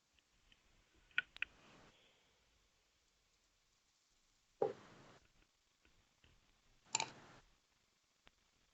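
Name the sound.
keyboard typing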